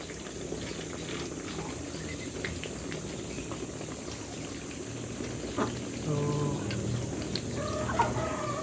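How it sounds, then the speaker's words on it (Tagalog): A mixed flock of Muscovy ducks and native ducks feeding, giving a dense, continuous bed of pecking, dabbling and soft low calls, moderately near, with brief murmured voices in the background. "22 na halo na Muscovy at saka itik, kumakain sila ng mga"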